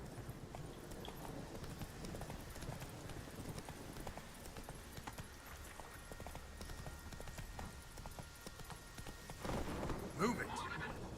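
Horse hooves clip-clopping at a walk in the video game Witcher 3, steady and faint beneath a low background, with a louder rustle near the end and a speaking voice.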